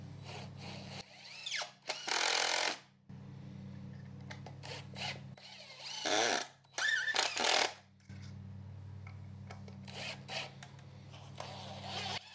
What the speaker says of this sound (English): For the back side, I said, I'll just Dremel them off.